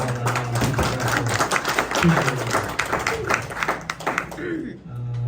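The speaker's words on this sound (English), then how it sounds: "Let's give Frank another round of way applause." An audience applauds, with a dense run of clapping that fades out near the end while a person talks over it.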